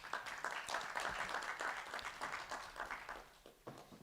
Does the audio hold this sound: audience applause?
yes